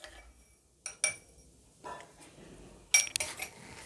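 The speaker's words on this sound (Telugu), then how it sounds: "అన్ని చింతకాయల్ని ఈ విధంగా ఒకటొకటిగా వేసుకుంటూ బాగా దంచుకోండి" Tamarinds are pounded one by one in a stone mortar for pickle, giving a few sharp, close knocks and clinks separated by quiet pauses, with a denser cluster of impacts near the end.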